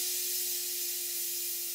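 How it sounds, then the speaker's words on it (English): A Stuart 504 model steam boiler blows off steam through its safety valve, giving a steady, even hiss with a faint tonal whine running through it, sustained without pause. "The 504 boiler is blowing off now, as if it's impatiently waiting for the opening of the steam valve."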